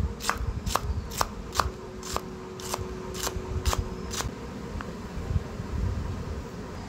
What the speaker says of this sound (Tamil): ஒரு கைப்பிடி அளவு பீன்ஸ் பொடியாக கட் பண்ணிக்கலாம்.